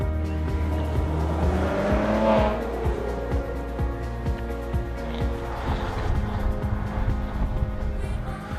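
A rear-wheel-drive Maserati Ghibli driven playfully, its engine droning steadily while tires squeal in bursts over roughly eight seconds, fairly close and moderately loud, with no speech.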